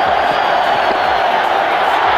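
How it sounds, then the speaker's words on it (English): A cricket stadium crowd at a 2002 India versus West Indies one-day international roars for a batsman's fifty, a dense, steady wall of distant cheering with a commentator talking over it. "The crowd is delirious."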